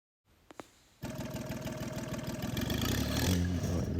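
A John Deere 6x4 Gator engine starts with a couple of clicks, then runs loud and close with a rapid chugging beat that builds steadily as it revs.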